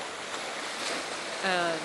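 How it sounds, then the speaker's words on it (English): Ocean waves at Rockport, a steady broad wash of surf close by, with a brief voice sounding near the end. "listening to the waves"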